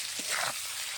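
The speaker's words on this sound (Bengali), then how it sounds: "মাছগুলো সুন্দর করে ভেজে দিই" Fish frying in oil for a Bengali meal, a brief, steady hissing sizzle with a faint stir or clink near the start, close and even.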